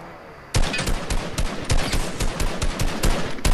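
Gunshots ring out in Fortnite Battle Royale, where a sudden loud burst begins a run of rapid, closely spaced shots that crack repeatedly and stay near and prominent.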